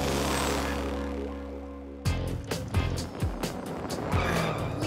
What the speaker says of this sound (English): Police car Flip is in pursuit.